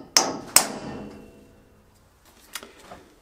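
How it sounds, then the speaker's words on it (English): Two sharp metallic taps ring out close together as a center punch strikes a round metal tube, then fade, followed by a couple of softer knocks a moment later. "Now I'm just going to center punch it"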